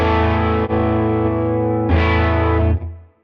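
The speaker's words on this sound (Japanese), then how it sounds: "空間系のエフェクターはコーラスがポストにありますね" Tone King Imperial MKII amp simulator with chorus placed after the amp, playing crunchy electric guitar: two sustained, loud strummed chords with a shimmering, wavering chorus tone, the second ringing out briefly before cutting off.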